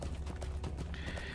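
Goat mount's hooves clopping steadily in Lord of the Rings Online, a quick regular patter over low game ambience, with a brighter tone entering partway through.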